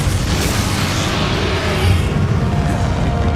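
A Bombarda spell explodes in the video game Hogwarts Legacy, a dense, rumbling boom that holds loud and steady, filling the whole stretch with low blast noise and a mid-clip swell.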